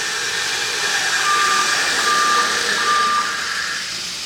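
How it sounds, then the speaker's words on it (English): Fire sprinkler alarm check valve system sounding its alarm during a test: a steady loud rush of water flow with an intermittent high electronic beeping tone on top, fading slightly toward the end. "And there we have our alarm."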